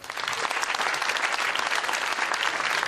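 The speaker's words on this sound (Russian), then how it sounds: "Ваши аплодисменты." Steady, dense applause from a comedy show audience, a continuous wash of clapping from many hands at close range, unbroken and even in loudness throughout.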